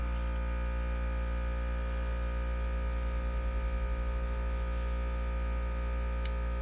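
A beginner airbrush kit for scale models sprays paint at high pressure while its compressor runs, giving a continuous close hiss over a low steady hum. No voices are present.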